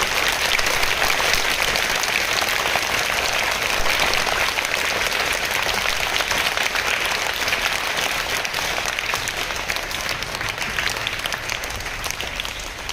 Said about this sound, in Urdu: میں سب سے پہلے یہ چاہوں گا کہ طلباء اپنی زوردار تالیوں کے ساتھ یہاں موجود مہمانان کا استقبال کریں۔